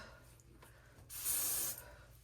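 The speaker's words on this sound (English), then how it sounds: "So I spray in my parts on this just because I want this to be firm down" A single short burst of hairspray hisses out onto the parts of a lace wig, close and clear, over a quiet room for about half a second.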